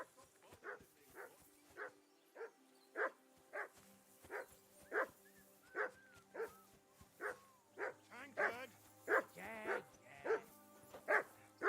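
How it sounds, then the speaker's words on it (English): In the medieval role-playing game Kingdom Come Deliverance 2, a dog barks over and over in an even, steady rhythm, loud and close. Someone briefly shouts partway through. "I assume you can hear that damn dog of yours barking."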